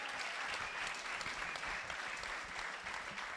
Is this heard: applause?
yes